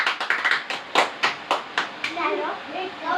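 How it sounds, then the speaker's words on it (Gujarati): Small children clap their hands in a quick run of about a dozen close, sharp claps, uneven in rhythm, then stop as young voices chatter in the background. "તાળી પાડો."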